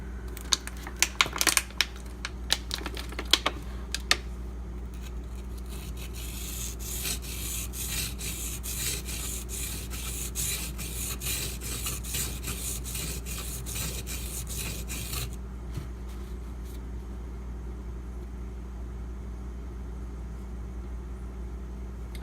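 Steady rasping strokes of a Spyderco Native 5 knife with a Maxamet steel blade drawn across a sharpening stone, a few sharper scrapes at the start, then continuous rhythmic rubbing, close up with no talk.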